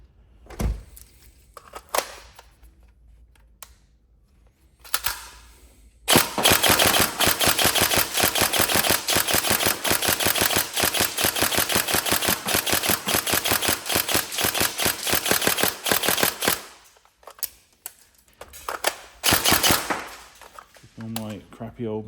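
A Tokyo Marui SCAR-L next-generation airsoft rifle fires on 3.2 setups: a few scattered shots, then a long sustained burst of rapid, evenly spaced mechanical cycling, followed by a few more isolated shots and some brief talk.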